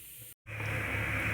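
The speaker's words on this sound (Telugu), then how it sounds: "అటుకులు ఫ్రై అవ్వాలి ఫ్రెండ్స్" Flattened rice (poha) fries in a pan with a steady, close sizzling hiss, briefly cut off near the start and then resuming loud and even, with no voices.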